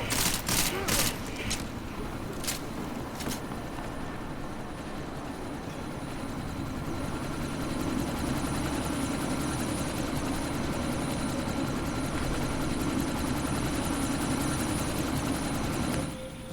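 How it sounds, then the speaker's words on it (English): A helicopter taking off in Deus Ex: Mankind Divided whirs and drones continuously with a rising rotor hum, opening with a few sharp gunshot-like cracks, fairly quiet overall. "That chopper's about to take off."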